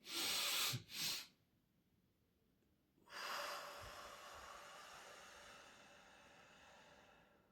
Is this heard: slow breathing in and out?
yes